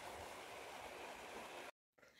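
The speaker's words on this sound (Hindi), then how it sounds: "देखें पानी वो ऊपर से आ रहा है पहाड़ी से।" Rainwater runs down a hillside near a rain-slicked road in the hills, a steady rushing wash of flowing water heard up close that cuts out abruptly for a moment before returning.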